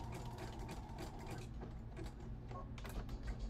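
A sewing machine back-stitches a seam on fabric, a quiet, rapid mechanical clatter running without a break, close by and alone.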